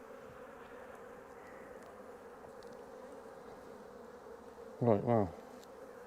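Defensive honey bees buzz around an opened orchard apiary hive, a steady low drone of many bees throughout, with someone speaking briefly near the end.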